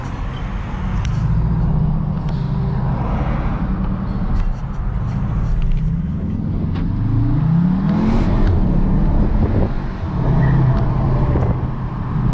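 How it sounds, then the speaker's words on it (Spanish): A 2023 CUPRA Formentor VZ's turbocharged engine accelerates hard under a steady, loud drone that climbs in pitch through the gears, recorded from inside the car on the road. "¿Escuchas el turbo?"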